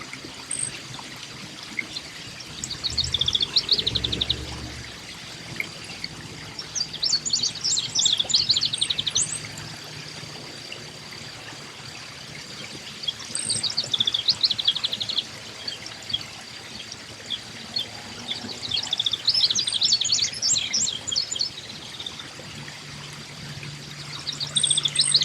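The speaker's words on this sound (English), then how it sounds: "This bird sings a beautiful song, encouraging us to drink our tee-hee-hee-hee." A towhee repeats its bright drink-your-tea song several times at spaced intervals, clear and fairly near, over a soft steady trickle of water and faint low background noise.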